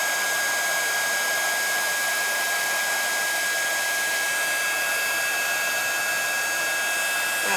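A heat gun melting embossing powder on an MDF disk gives off a steady, loud, unbroken blowing whir with a high whine, close by and continuous, with no talk.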